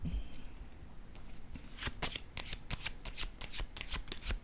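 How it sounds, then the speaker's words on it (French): Cards being drawn one after another from a deck, a series of crisp close flicks and snaps in quick succession following a quieter rustle, with no talk. "je vais piger une autre carte ici"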